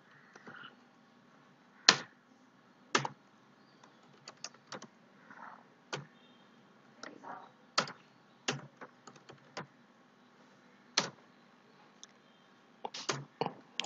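Keys on a computer keyboard clack in scattered, irregular taps and short bursts, entering text in Word 2010, close and fairly quiet over a faint steady hum, with no speech.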